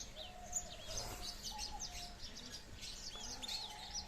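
Caged canaries chirp and tweet in short bright bursts throughout, fairly faint against a steady low room hum, with no talking.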